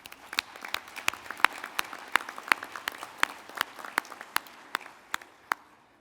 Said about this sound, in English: One more round of applause, if you will indulge me, for all those who contributed to support today's event